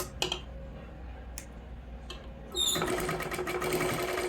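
A sewing machine stitches blouse fabric: quiet handling and a few sharp clicks, then the motor starts midway into a steady, close, rapid whirring run.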